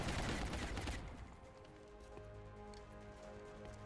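A loud burst of rapid gunfire erupts from the XCOM Long War video game, then fades into a ringing, echoing tail with lingering tones.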